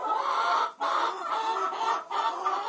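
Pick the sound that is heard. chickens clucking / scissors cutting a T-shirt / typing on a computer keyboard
chickens clucking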